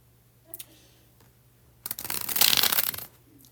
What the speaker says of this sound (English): when I do the bridge shuffle, as I'm about to do